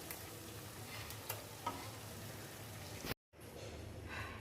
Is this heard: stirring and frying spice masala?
yes